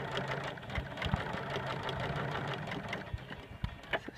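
A sewing machine back tacks along a shorts waistband, its motor whirring in a steady low run with a few short bursts and stops, close by and fairly quiet, with no talking.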